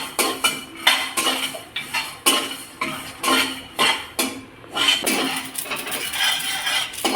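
Sesame seeds dry-roasting in a pan for a no-oil, no-sugar sweet, crackling and popping in repeated sharp bursts as they are stirred, with clinks of a metal spoon against the pan close by.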